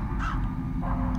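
A crow in the video game Crow Country gives two harsh caws, loud and close, separated by a short pause over a steady low ambient hum.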